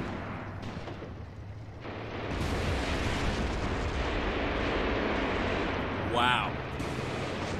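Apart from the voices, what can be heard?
artillery fire and explosions in video game Graviteam Tactics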